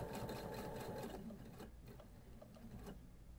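Sewing machine stitching fabric at close range, a quiet, steady rapid mechanical chatter with faint rhythmic ticking that softens partway through.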